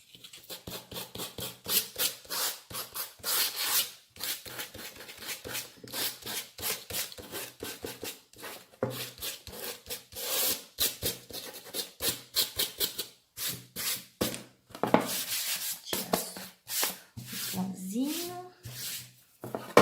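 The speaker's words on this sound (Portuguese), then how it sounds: "a lixa já não tá mais saindo o suficiente do jeito que eu quero. eu tenho que ficar fazendo muita força" Sandpaper rubbed by hand over a painted stencil board, a dense run of scratchy back-and-forth strokes close up, with a brief pause partway and some handling noise near the end.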